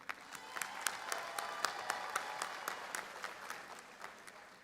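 An audience at a high school graduation ceremony claps steadily for the Board of Trustees, individual claps standing out over the sustained applause, with no one speaking.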